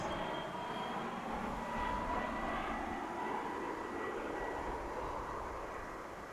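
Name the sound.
UPS plane at DFW International Airport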